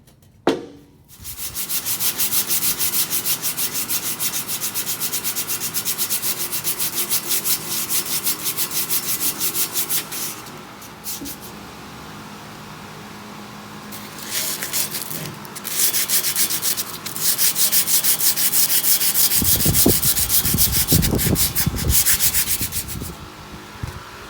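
Hand sanding a rare JDM Secret Sports metal exhaust header for a race Civic with sandpaper: long, steady, rasping back-and-forth rubbing strokes, close and continuous, easing off briefly midway before resuming more vigorously.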